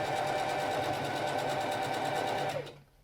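A sewing machine runs a steady, close, continuous stitch along a tote bag seam, going back over earlier stitching, then winds down and stops near the end.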